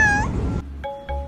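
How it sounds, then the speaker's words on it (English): A cat lets out one short, close meow with a rising pitch, followed by a couple of faint, thin tonal blips and low background rumble. "Wow, your name is Kitty?"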